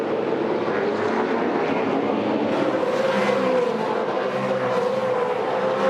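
V8 Supercars race at the 2007 Desert 400, two cars running together, their engines a continuous loud roar with pitch sweeping up and down as they pass.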